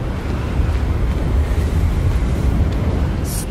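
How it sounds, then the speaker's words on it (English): Loud, steady in-game wind in Hogwarts Legacy roaring and buffeting, a continuous low rush with no break throughout. "Good God, that is windy."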